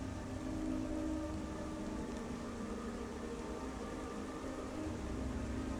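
Steady rain falls outside a mortuary in a horror video game, a constant dense hiss with no break or voices.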